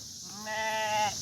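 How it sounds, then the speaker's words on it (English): Sheep on a farm with new lambs giving one bleat that swells and fades, moderately close over quiet background, with no talking. "Sheep."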